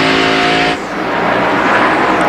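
Stock cars roar past at the 2002 Southern 500 at Darlington, a loud, dense engine drone with a sharp shift in tone as a car goes by, steady and close with no voices.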